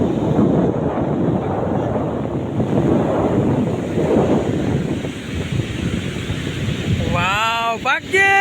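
Sea waves wash in at Somnath beach in Veraval, a steady loud rush of surf and water blended with strong wind buffeting the microphone, with voices talking near the end.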